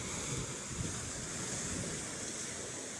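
Calm sea washing onto the shore after a passing typhoon, with fishing boats moored nearby; a steady, continuous broadband wash of surf mixed with wind buffeting the microphone, no distinct individual wave breaks.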